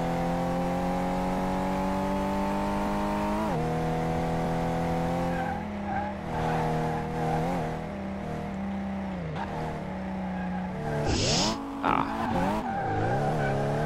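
A car driven in Car Mechanic Simulator 2018, its engine droning steadily at first, then revving up and down through gear changes, with sharp tire squeals and skidding near the end.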